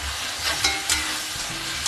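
Vegetables stir-frying in a hot pan just after a large carrot goes in, a loud continuous sizzle with a few soft scraping stirs, no voices.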